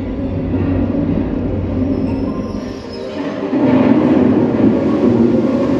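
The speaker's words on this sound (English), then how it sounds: "And here comes the ore train." A mine ore train rumbles through the Britannia Mine Museum in British Columbia, a steady loud low-frequency roar with grinding rail noise that swells slightly louder partway through.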